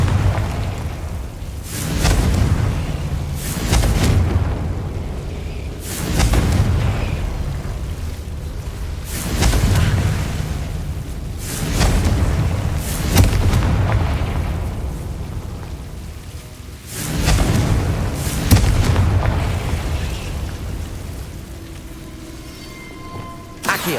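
Repeated Confringo fire-blast spell explosions in the video game Hogwarts Legacy, about six heavy booming bursts spaced a few seconds apart, each with a rumbling, crackling decay, loud and without speech.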